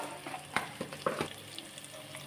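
Tomato and cumin sizzle in a hot pan while being mixed, with a few soft scraping stir strokes over a low, steady frying hiss, quiet and close, with no talking.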